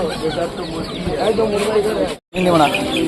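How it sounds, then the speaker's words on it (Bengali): Many chickens, including small chicks, cluck and chatter densely at a bustling livestock and bird market, forming a continuous near and loud din with brief quieter moments. "এখানে কত মুরগি বিক্রি হচ্ছে"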